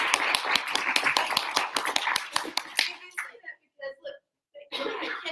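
Audience applause at a general meeting, a burst of close, dense hand claps for about three seconds, then fading into a few scattered sounds and a short resumption at the end.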